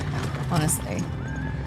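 Horses whinnying and neighing in an anime episode, a sharp shrill neigh standing out over hoofbeats and a voice speaking along with it.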